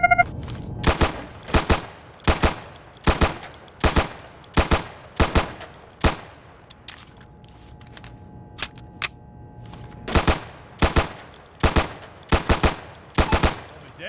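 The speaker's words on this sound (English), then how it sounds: "Go over to the firing booth. Take down those targets as quickly as you can." Rapid gunshots at a shooting-range target booth in the Insurgency video game: loud, close, sharp reports in quick clusters, with a short pause in the middle before another fast string of shots.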